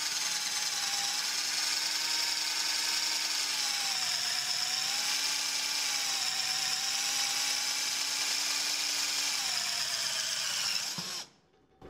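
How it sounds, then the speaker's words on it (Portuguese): A 12V Titanium cordless drill bores with a 3/8-inch spade bit, a loud, steady motor whine that dips slightly in pitch under load, runs for about eleven seconds, then cuts off abruptly. "Vamos ver se elas se dão melhor com uma broca chata de 3 oitavos, que também são quase 10 milímetros"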